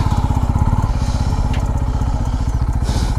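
A Bajaj Pulsar F250 motorcycle engine idles close up with a steady, rapid putter that runs unbroken throughout.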